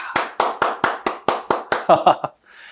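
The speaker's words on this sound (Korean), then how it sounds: "먼저 박수 한번 치고 시작하도록 할게요" Eight slow, evenly spaced hand claps ring out close by, followed by a couple of quicker, softer claps before it falls quiet.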